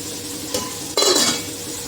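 Large tomatoes sautéing in a pan, a brief spatula scrape followed by a louder burst of sizzling stirring, close and short, with no talking.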